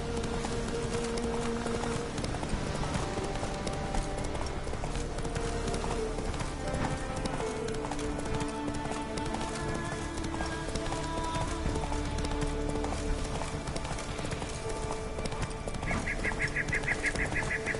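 Roach the horse galloping in The Witcher 3, quick rhythmic hoofbeats thudding over a dense, continuous bed of game music and ambience, with faint game voices in the background.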